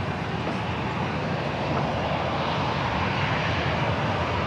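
Jet engines of an Air Canada Rouge Airbus A319 at San Diego airport, a loud, steady broadband roar that holds unbroken throughout with no voices.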